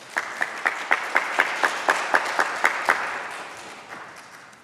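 An indoor audience at a session on immigration applauds before an opening prayer, the clapping steady and rhythmic, then slowly fading out.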